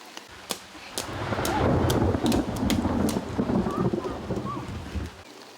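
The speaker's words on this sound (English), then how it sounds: "the torrential rain continues to fall on Chester Zoo" Torrential rain pours down at Chester Zoo, a dense steady roar with wind buffeting the microphone and sharp cracks of thunder breaking through, loud and close throughout.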